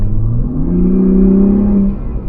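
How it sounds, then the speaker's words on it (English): A Ford Bronco Raptor's loud exhaust revs up close in its loudest exhaust mode, the engine note climbing into a deep throaty roar before dropping back. "an exhaust mode on the steering wheel, so you can be extremely loud"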